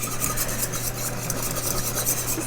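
A spoon or whisk scrapes and stirs thick chicken gravy in a Ninja Foodi pot, a close, continuous rasping swish over a faint hum.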